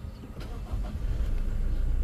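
Inside the cabin of a 2023 Toyota Fortuner 4×2, the engine hums low and steady, rising slightly and settling into an even idle-like drone.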